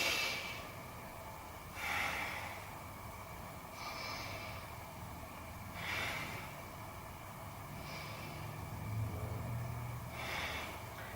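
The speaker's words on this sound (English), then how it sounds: "Let's take 3 breaths" Slow, deep breathing held through a yoga bow pose, several soft breath swells rising and falling every couple of seconds, close and gentle over a low steady background hum, with no talking.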